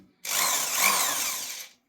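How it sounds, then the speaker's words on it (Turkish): A power drill with a bit-holding right-angle corner attachment drives a screw in one steady, loud whirring burst of about one and a half seconds, with no talking. "herhangi bir matkap veya vidalamanın ucuna takarak da şu şekilde şöyle istediğiniz yöne çevirebilirsiniz."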